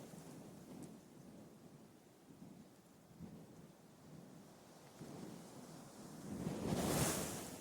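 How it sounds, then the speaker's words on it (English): Rain pours in a steady wash while low thunder rumbles, swelling into a louder, nearer crack and roll near the end. "By dusk, the storm breaks, sudden and hard, rain"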